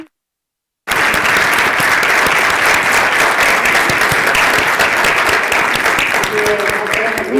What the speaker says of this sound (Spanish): Un aplauso, por supuesto.